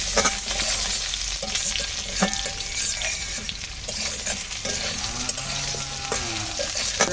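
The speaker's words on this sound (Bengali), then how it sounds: "এখন দিয়ে দিচ্ছি আলু। আলুগুলো দিয়ে একটু ভালো করে ভেজে নেব।" Potatoes fry together with crabs in a pan, a loud close sizzle broken by scraping stirring strokes, continuous throughout.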